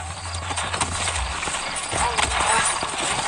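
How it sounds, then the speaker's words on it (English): Horse hooves clip-clop on the ground in the video game Red Dead Redemption, a close, rapid, uneven patter of steps with a man's speech over them. "You ain't gonna find sturdier horses than these in all of New Ulster."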